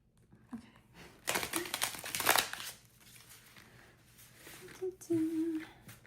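Tarot cards shuffled with long nails, a run of papery crinkling and riffling bursts, fairly close, with a short voice near the end.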